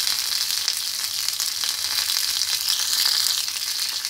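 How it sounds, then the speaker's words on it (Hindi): Mustard seeds, curry leaves and finely chopped green chillies frying in hot oil, giving a bright, dense, continuous sizzle with crackling spatter close by and no voices. "हम सबसे पहले सरसों के दाने डालेंगे, साथ ही हम कड़ी पत्ता डाल देंगे, और जो हमने हरी मिर्चें बारीक करके काट के रखी थी वो डाल देंगे"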